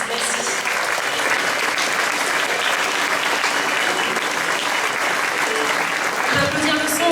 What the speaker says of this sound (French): un tonnerre d'applaudissements pour la mairie de Saint-Afrique